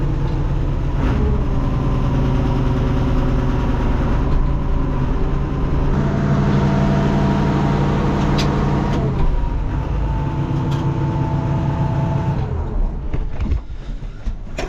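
An old farm truck's engine runs at a steady, heavy low idle close by, with a rough mechanical drone and a few shifts in tone, alone without talk.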